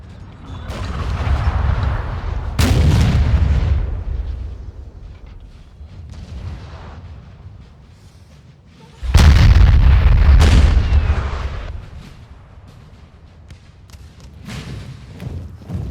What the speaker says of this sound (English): The French artillery is just returning fire on the Russian artillery here.